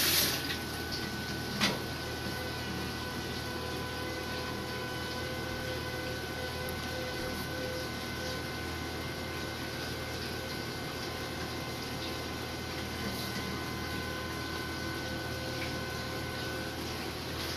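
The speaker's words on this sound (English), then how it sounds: "Alright, I asked her to flush it." Toilet flushing upstairs with water running down through a drain pipe, a steady, even rush of flowing water heard from nearby, continuous and alone, without speech.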